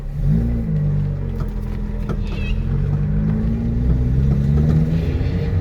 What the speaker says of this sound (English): The engine's it's not warmed up enough, but it's enough to drive now, so it's fine.